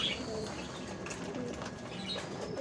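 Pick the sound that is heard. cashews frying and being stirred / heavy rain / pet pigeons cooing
pet pigeons cooing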